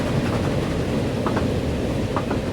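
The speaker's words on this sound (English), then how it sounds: "And there's another train." Rumbling train passing in Transport Fever 2, a steady broadband roar of rolling rail noise with a few faint clicks, constant and fairly close throughout.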